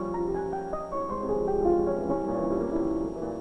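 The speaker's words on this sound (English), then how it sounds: "Think of how a piano sounds when it's played." Piano notes play a gentle, flowing melody at moderate volume, overlapping tones sustaining into one another in a soft, continuous phrase.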